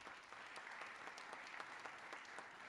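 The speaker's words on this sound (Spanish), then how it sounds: "Para Mónica Saray, un aplauso muy especial." A university event audience applauds steadily, a dense, even wash of clapping throughout, fairly faint and distant, with no talk over it.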